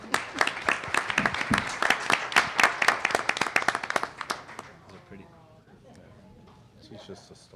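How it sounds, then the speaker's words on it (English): A conference audience claps loudly and steadily for several seconds, then the applause fades out as a voice begins speaking. "come up here and get a round of applause"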